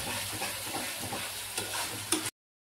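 Meat sizzles and fries in a pan with spices while being stirred and scraped repeatedly, a close steady crackle with irregular stirring scrapes and no voices.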